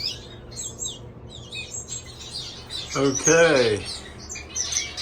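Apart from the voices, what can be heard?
canaries chirping, begging for food in aviary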